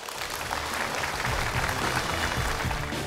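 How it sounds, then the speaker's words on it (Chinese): A television studio audience applauds steadily to welcome a guest, dense, even clapping that stays loud throughout. "我们用掌声有请今天的倾诉人"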